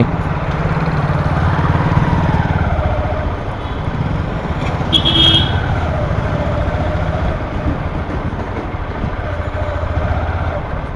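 A Honda Hornet 2.0 motorcycle ridden in normal gear on a dusty road, its engine a steady, loud rumble with wind noise that swells and eases slightly as speed shifts.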